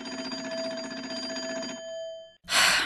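A coin phone on a porch rings in a Nancy Drew video game, a steady electric bell trill lasting almost two seconds before a short pause and a loud burst of noise.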